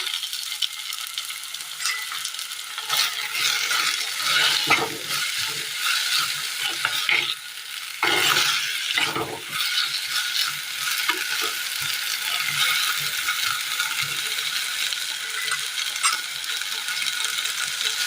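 Taro stems and taro pieces fry in oil for a Kerala curry, a continuous close sizzle broken by repeated scraping and clattering of stirring in the pan.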